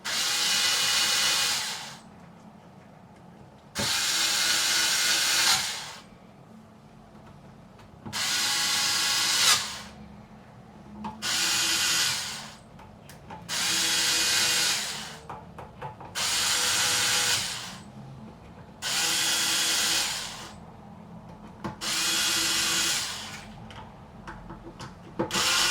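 An electric screwdriver driving screws into a Squier Affinity Telecaster during a setup, in about eight short whirring bursts with brief pauses between them, close and fairly loud.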